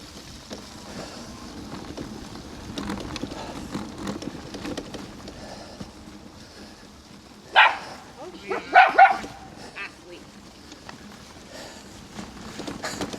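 Dogs barking in a woodland park, a few sharp barks bursting out near the middle, moderately close, over a quiet outdoor background with faint talk and footsteps.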